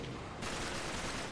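A brief, dense burst of automatic weapon fire from Uncharted 3: Drake's Deception, loud and continuous over its short length, with no speech.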